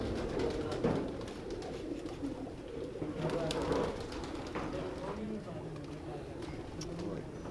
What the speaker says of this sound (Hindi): ये मेरे लाखे कबूतर हैं।